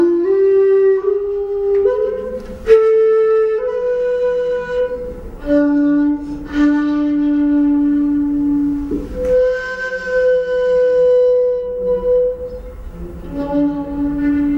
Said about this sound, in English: The shakuhachi sounds like this.